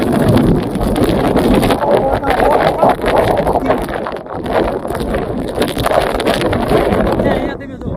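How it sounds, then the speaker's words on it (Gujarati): Strong, fast wind buffets the microphone at a village construction site, producing loud continuous rumbling gusts that last the whole stretch, with a person talking over it. "પવન પણ એટલો બધો ફાસ્ટ છે"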